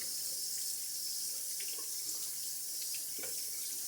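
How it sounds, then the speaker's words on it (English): A tap runs steadily as a shaving soap puck and the outside of its container are rinsed under it, giving a constant close hiss of water with small splashes and no talking. "Rinsing off the puck, the outside of the container there, so that the soap doesn't build up in the threading."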